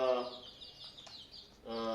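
Chicks at a poultry exhibition give soft, high-pitched clucks and cheeps in short bursts at the start and end, with quieter rustling in between.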